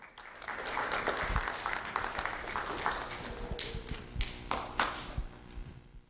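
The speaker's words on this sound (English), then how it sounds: "Let's have a round of applause for Kendra Donith." Audience applause at a middle school student award ceremony run with a county sheriff's office, steady crowd clapping throughout with a few louder claps near the end and no talk.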